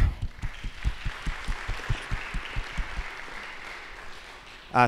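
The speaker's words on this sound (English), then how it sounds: "I want to everybody give a round of applause to Ben, the new director of New York Civic," Applause from a group of people at a campaign finance panel, with a faint low rhythmic thumping underneath that fades as the clapping continues.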